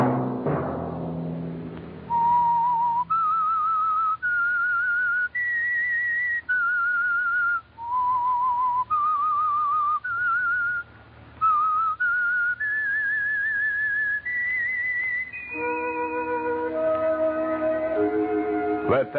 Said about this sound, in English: that whistle be your signal for the signal oil program, The Whistler